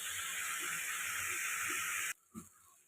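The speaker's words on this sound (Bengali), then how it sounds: "তো এটাকে একটু ভাজা হতে দেবো" Potatoes frying in a little oil, about three or four spoonfuls, for a Bengali moong dal ghonto with ridge gourd and pumpkin: a steady, loud sizzling hiss that cuts off abruptly near the end, leaving a brief faint clatter.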